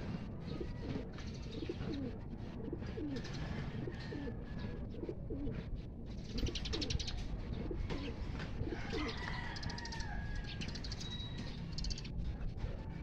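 Soft, repeated pigeon coos roll on continuously at close range, with a few faint chirps and low background murmur, and no talking.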